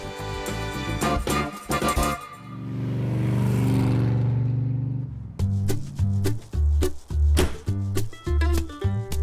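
A Reliant Robin's engine fires up and settles into a steady running drone for a few seconds, set between louder bursts of clattering, rhythmic activity.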